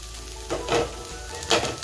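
Egg cooks in a pan with a small dab of butter, giving a soft steady sizzle with a few louder crackling swells as it is stirred, close and without talk.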